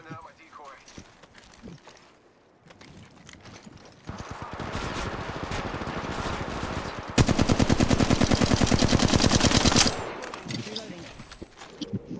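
Automatic gunfire in Apex Legends Mobile, with scattered shots early, then a long sustained burst and an even louder rapid rattle of fire near the end, heard under excited talk.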